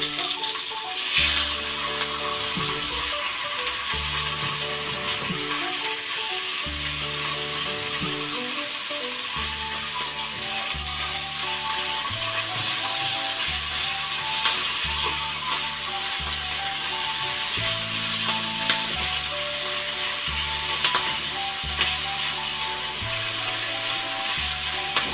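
Sausage frying in a pan for a breakfast of scrambled eggs, a soft continuous sizzle with occasional rattles, lying under steady background music for the whole stretch.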